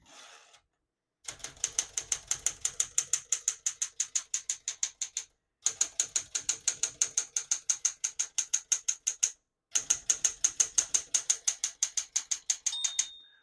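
Rapid mechanical keystrokes clack in steady bursts on a 1972 Smith-Corona Classic 10 manual portable typewriter, separated by brief pauses, with a small margin bell ding near the end.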